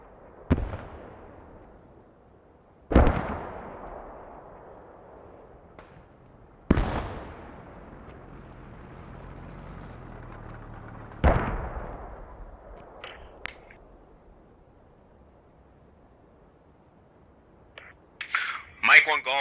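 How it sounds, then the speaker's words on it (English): Mortar shells burst in a combat video game, four heavy booms spaced several seconds apart, each with a sharp onset and a rolling decay, followed by a cluster of sharper cracks near the end. "We are taking hostile mortar fire."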